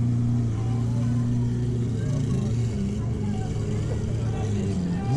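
A Lamborghini at a Lambos-only car show gives a short, loud engine rev, a low droning roar with rising harmonics, while people talk nearby and crowd noise fills the background.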